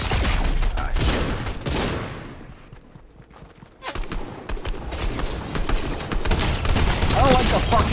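Burst weapon gunfire from the Fortnite video game rattles in rapid volleys under loud game noise, easing briefly before building again, with players talking over it.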